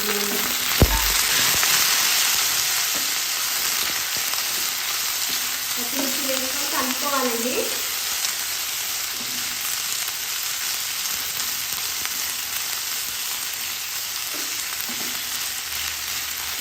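Green chillies fry in oil with a steady, loud sizzle throughout, along with a few clatters of stirring and a faint voice partway through.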